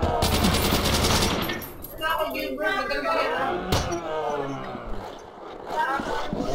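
A Thompson submachine gun fires in Call of Duty: World at War Nazi Zombies, with a loud rapid burst up front, then scattered shots and game noise while a player's voice talks excitedly over it.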